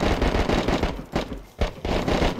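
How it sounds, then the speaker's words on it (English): Rapid gunfire in the video game DayZ, dense bursts of loud cracking shots in quick succession with two short pauses, filling the clip without speech. "Into the gunshots too."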